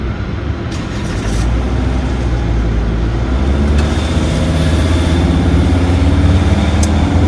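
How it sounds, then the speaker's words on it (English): Cars idling in a ferry lineup on the Digby Neck by the Bay of Fundy in Nova Scotia, with one vehicle backing out: a steady, loud, close engine rumble with no talk. "this is the lineup of cars for those that are waiting to get back on the ferry"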